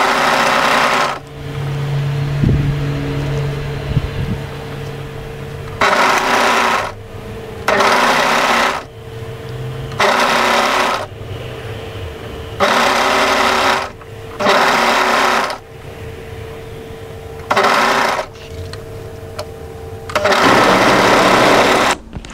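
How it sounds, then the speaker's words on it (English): An overlocker sews the raglan sleeve seams of a hoodie in a series of loud, close, buzzing runs of two to three seconds each, separated by short pauses of fabric handling, with a steady motor hum underneath. "we're going to overlock those pieces together"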